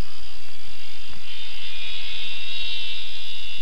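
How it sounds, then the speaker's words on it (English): A loud, continuous high-pitched buzzing drone of a cicada, steady and unbroken for the whole stretch. "With its long beak, the cicada extracts sap from the trees as it sings in the hot"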